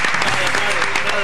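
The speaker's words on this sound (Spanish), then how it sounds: "Un aplauso para ellos." Audience applause breaks out in a TV studio for a team that has just won a game-show round, a brief dense burst of clapping with voices mixed in.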